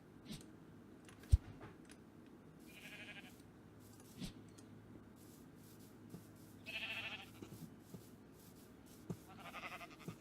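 Sheep bleat in a plains village within a modded Minecraft game, a few faint calls spaced across the clip over a quiet ambient background.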